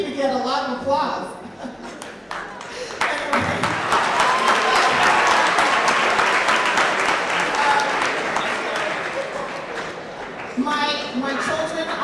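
A high school audience in Norwalk, Connecticut breaks into applause that swells to a loud, dense peak, then eases off, with a voice speaking before and after the clapping.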